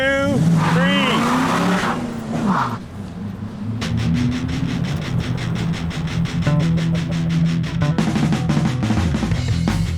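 Cars launching at a drag race, engines revving hard and then roaring off in loud rising accelerations with rapid gear-change pulses, and a voice briefly heard near the start.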